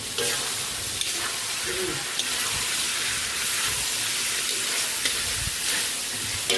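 Tofu sautés and is stirred in a pan while pancit bihon canton is being prepared, with a constant bright sizzle and occasional scraping and clinking of utensils, loud and close.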